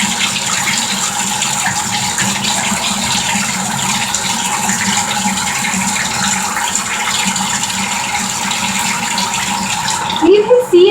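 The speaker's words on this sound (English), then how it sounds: "Gently pour, please." Liquid pours steadily during at-home hair dyeing with pen ink, a continuous close splashing gush that runs unbroken to the end, where a brief voice cuts in.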